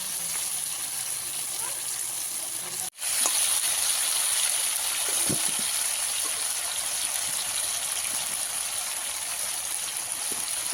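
Cauliflower frying in oil in a pan on a wood-fired stove: a steady, dense sizzle that runs throughout, broken by one brief dropout near the start, with faint crackles beneath and no talk.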